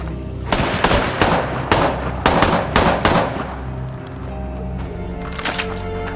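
A burst of loud, close gunfire in a film scene, with rapid repeated shots in quick clusters over an ambient background, then quieter sporadic shots.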